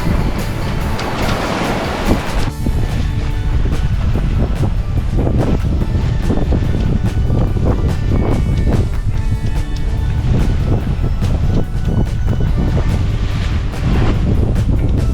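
Strong Papagayo winds at sea buffeting a sailboat, a loud continuous roar of wind across the microphone with rushing water beneath, steady and close for the whole stretch.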